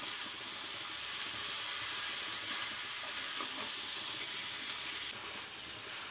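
Dill greens and fresh field beans fry in spicy oil while being stirred for a traditional palya, giving a steady, close sizzle with faint scraping that softens slightly toward the end.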